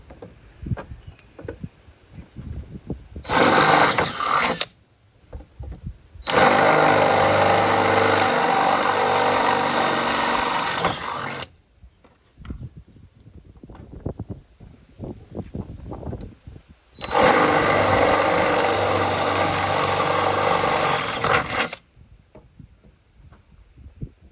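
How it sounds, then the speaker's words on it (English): Power drill with a 3/8 inch bit boring out hood latch mounting holes on a Jeep JK, three loud bursts of high-pitched whirring and grinding several seconds long, separated by quieter pauses with faint handling noises. "we're gonna take our drill with our 3/8 drill bit"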